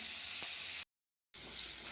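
Tomato dropped into hot leftover fish-frying oil with ginger-cumin paste hisses in a loud, dense sizzle, cut by a brief stretch of total silence before the frying resumes just as strongly.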